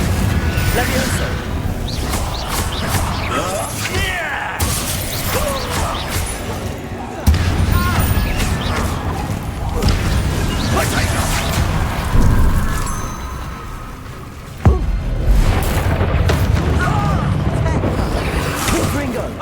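Repeated Confringo blasting-spell explosions in the Hogwarts Legacy video game, sharp bursts and booms recurring every few seconds over dense game effects and music, with a player shouting throughout.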